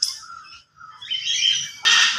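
A parrot squawks loudly in short harsh bursts nearby, ending with a sharp, piercing call.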